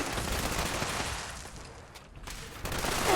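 Gunfire in the video game Fallout 76, a rapid, dense burst of automatic shots that fades briefly and then picks up again, loud and close.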